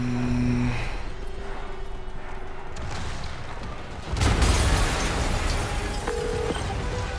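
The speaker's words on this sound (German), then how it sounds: "eine Explosion!" A loud explosion in the video game Spider-Man Remastered bursts midway with a deep boom and broadband roar, preceded by quieter game sounds and followed by lingering rumble.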